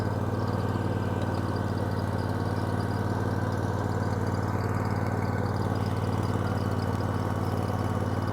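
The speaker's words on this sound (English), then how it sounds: "We are running, so we'll disengage the brake, put my foot on this hydrostatic pedal." A Kubota T1870 hydrostatic mower tractor's engine drones steadily and loudly up close while the machine drives, a constant low rumble with a buzzing hum and no change in pitch.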